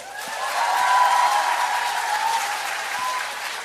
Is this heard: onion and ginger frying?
no